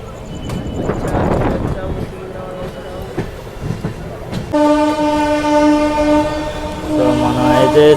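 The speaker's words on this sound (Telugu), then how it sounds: "సో మనం అయితే సికింద్రాబాద్ రైల్వే స్టేషన్ ఎంటర్ అవుతున్నాం" An LHB-coach superfast express train rolls into Secunderabad railway station, with rumbling wheels and a sustained multi-tone horn blaring loudly in the second half, while speech is heard early on.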